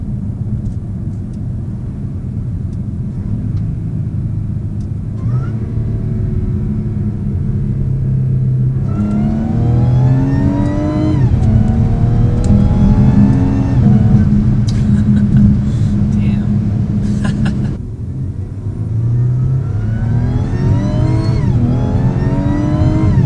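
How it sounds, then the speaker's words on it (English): An Audi SQ5 engine with a CTS Turbo intake revs up through rising pitches, its loud rumbling drone joined by a climbing supercharger whine, then dropping and revving again. "so we can get the RPMs high enough to really hear the supercharger."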